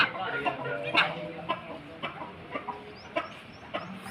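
Aseel rooster clucking in a yard, a series of short, evenly spaced clucks at moderate distance over soft background noise.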